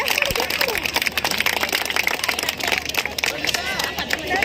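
An audience at a musical night in Kollegal claps loudly and continuously for the police, with a dense wash of applause mixed with crowd murmur and voices throughout.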